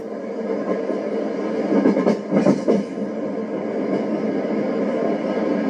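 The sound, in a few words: Union Pacific 3985 steam train climbing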